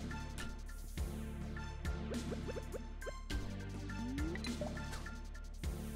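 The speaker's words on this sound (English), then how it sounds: "It's just water dropping." Water drips in Stardew Valley in slow, irregular drops with small plinking splashes over a steady, quiet musical background.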